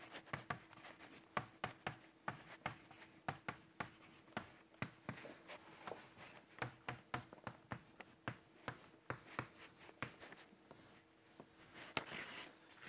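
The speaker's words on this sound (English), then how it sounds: "let me write down those two" Chalk or marker writing equations on a board during a lecture, rapid tapping strokes and scratches in an irregular rhythm, close and quiet with no talking.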